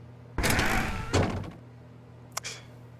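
A door in the video game The Stanley Parable, a heavy thunk as it slides or shuts, a second softer bump, then a short faint knock, with no talking.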